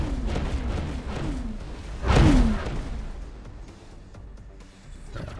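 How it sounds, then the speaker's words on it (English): A deep boom from an explosion in a video game, rising to a thick rumbling burst midway and fading into a low tail, with a few descending tonal sweeps before it. "Explosion imminent."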